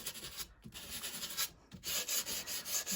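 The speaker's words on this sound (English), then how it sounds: "Because of course sanding, you know, is going to weaken the paper" Sandpaper rubs along the edges of a magazine paper image in quick scratchy strokes, several bursts broken by brief pauses, close and fairly soft, with no voices.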